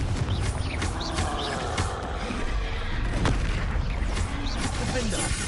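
Confringo spell blasts in Hogwarts Legacy, several booming impacts over a busy mix of game sound effects, with someone talking over them.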